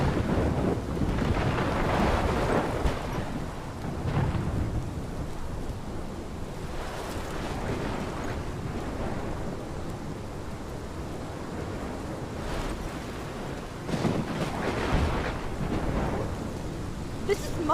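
Thunderstorm in the video game Life is Strange, with heavy rain roaring and wind churning while low thunder rumbles swell and fade repeatedly, loud and enveloping throughout.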